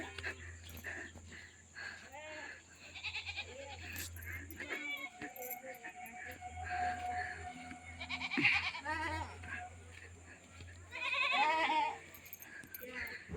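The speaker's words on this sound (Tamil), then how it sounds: "மாட்டு கொட்டை ஆடெல்லாம் இருக்குது பாருங்கள்" Goats bleat repeatedly at a farm shed with cattle nearby, several wavering calls near and at middle distance, one louder cry late on, over a low steady hum with a few faint clinks and some talk.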